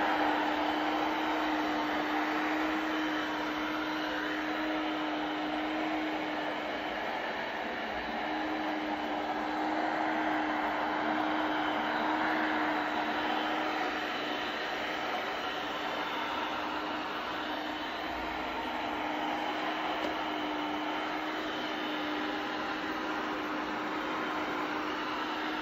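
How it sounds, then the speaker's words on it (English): A 360 C50 robot vacuum runs on a hard floor, a steady, loud whirring hum with a constant motor whine that holds unbroken throughout and carries no talk. "Definitely a little louder on the hard floor than the carpet."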